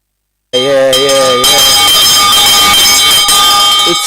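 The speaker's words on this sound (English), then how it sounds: "Now this small bell having the ring." A small hand bell rings loudly and close after a moment of silence, its bright metallic tone sustaining and shimmering with overlapping strikes through the rest of the moment.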